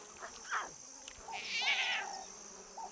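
Lion cubs calling with a few short, high mewing cries followed by one longer, wavering call, close by over a quiet background.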